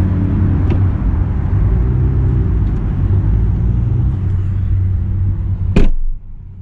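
A Toyota Supra rolls along on a New Year cruise in Southern California, a loud, steady low road rumble and engine drone heard from inside. It ends with a sharp thump and a sudden drop in noise.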